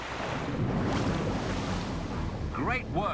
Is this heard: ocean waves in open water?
yes